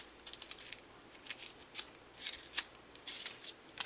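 A paper cupcake liner being folded in half again and again, crisp crinkly rustles and creases coming in short bursts close by, with no talk.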